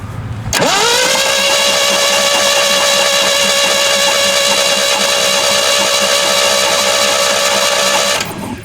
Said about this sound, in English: let's crank it over and spit out anything that's